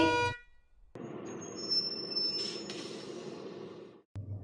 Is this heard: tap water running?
no